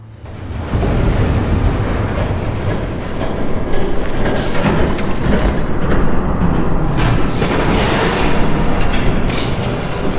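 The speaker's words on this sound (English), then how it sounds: "There's a train coming." In the video game Batman: The Telltale Series, a train passes with a loud, continuous roaring rumble that swells in after a moment and holds steady, with hissing and clattering on top.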